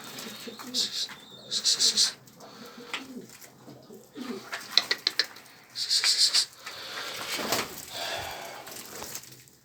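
Native Diyarbakır pigeons, including a kürenk, coo in a dim loft: repeated soft rolling coos and a few sharper calls come in bursts, with quieter stretches between them, while a person speaks nearby at times.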